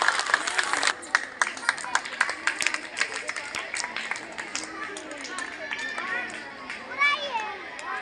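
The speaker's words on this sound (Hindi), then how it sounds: "पूर्व सरपंच और पुनिया खाप के प्रधान श्री मांगेराम जी को जगबीर फौजी सम्मानित करते हुए जोर से तालियां" Crowd applause with scattered claps and children's voices at an outdoor school Independence Day celebration, honouring a former village sarpanch and khap chief; steady clapping under chatter, fading into a general murmur of the gathering.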